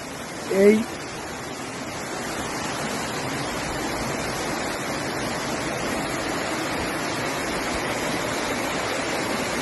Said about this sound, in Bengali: এই যে এইখান দিয়ে প্রবাহিত হয়ে আরো নিচের দিকে চলে যাচ্ছে।